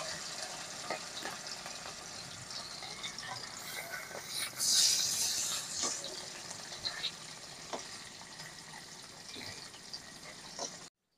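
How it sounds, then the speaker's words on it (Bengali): Pieces of rohu fish fry in hot mustard oil with a steady bubbling sizzle, swelling into a louder hiss midway, then settling into a continuous crackle with scattered pops. "তেল গরম হয়ে গেছে, এবার আমি মাছগুলো ভেজে নেব"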